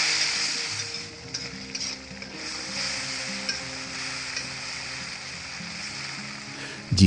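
Ground spice paste for an oyster mushroom dish sizzles and sautés in hot oil, a steady close crackling hiss with soft scraping stirs throughout and no speech.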